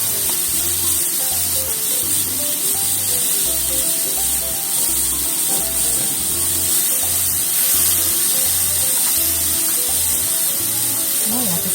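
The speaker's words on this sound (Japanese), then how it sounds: "ちょっと中火で焼いて、ちょっと焦げ目がつくぐらいに入れたところからお皿に取っていきます" Apples and blueberries fry in a pan over medium heat, a loud continuous sizzle and hiss with a faint rhythmic low thumping underneath.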